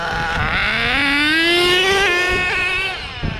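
Nitro engine of an HPI Savage XL RC truck, fitted with K5.9 and X4.6 engines and a two-speed transmission, revving hard in a rising, buzzing whine held for about three seconds before it drops off.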